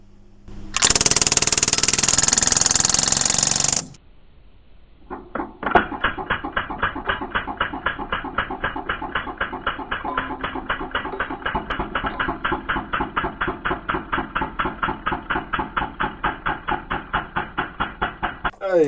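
A Crosman DPMS SBR full-auto 4.5 mm airgun opens with a brief loud hiss, then fires a long rapid string of sharp, evenly spaced blowback clacks, close and loud, with no talking.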